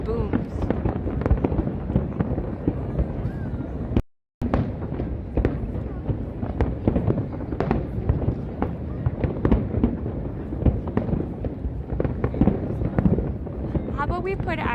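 Macy's 4th of July fireworks display over New York City, with dense, continuous booming bursts and crackles at a loud, steady pace, interrupted by a brief dropout, while a voice talks over them.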